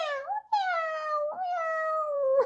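Three drawn-out, plaintive meows from a nearby cat, loud and clear, each rising then sliding down, with short pauses between.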